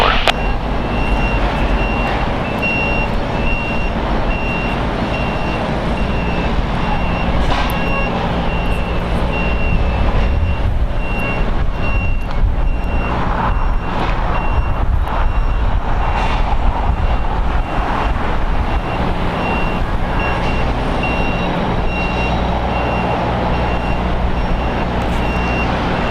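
Catering trucks reversing below an airport catering building give a repeating, steady, high-pitched beep over constant loud engine and airport rumble, heard at a distance throughout.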